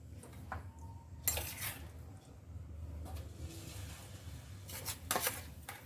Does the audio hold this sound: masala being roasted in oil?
yes